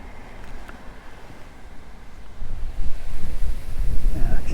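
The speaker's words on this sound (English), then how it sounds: "just so I get a cast the wind comes up again" Gusty wind buffets the microphone beside a river stream during a fishing session, a steady rush that builds louder and rougher in the second half, with no voices.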